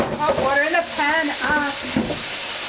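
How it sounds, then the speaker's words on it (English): Hot water hisses and sizzles as it hits a hot pan after frying pork loin steak, a loud crackling wash with a voice talking over it. "I'm putting hot water in the pan or the pot"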